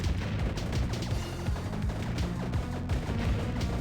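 A dense, continuous rattle of rapid shots from enemies firing projectiles in the cartoon arcade bullet-hell shooter Q-YO Blaster, fast overlapping bursts at steady volume throughout.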